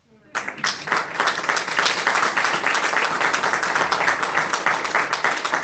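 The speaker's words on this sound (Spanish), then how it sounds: "No sé si la madre se merece un aplauso, hermano." Sustained applause from a church congregation, a dense crowd of clapping that starts abruptly and holds steady and loud throughout, with no talk over it.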